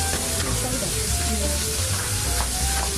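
Bacon frying in a pan gives a steady close sizzle and crackle, with light stirring scrapes mixed in and no talk over it.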